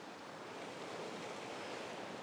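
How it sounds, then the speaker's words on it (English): A small brook cascades down into the River Dart in a Dartmoor valley, giving a steady, dense rushing wash of water, close and continuous with no voices. "I've found a small brook that's cascading down into the River Dart"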